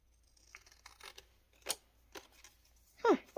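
Paper is cut with scissors in a few short, separate snips at close range, with the last cut the loudest, set against a quiet background.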